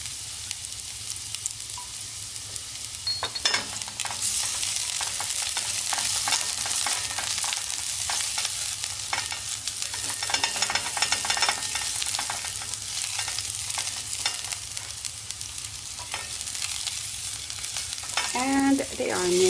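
Garlic sautés in oil, following ginger, as the base for chicken and pork adobo: a continuous close sizzle with intermittent stirring scrapes that swell toward the end.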